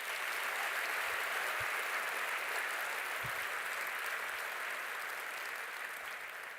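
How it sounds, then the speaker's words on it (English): Sustained applause from a university graduation congregation as the musicians depart, a dense, even wash of many hands clapping that continues throughout. "I think they deserve another round of applause"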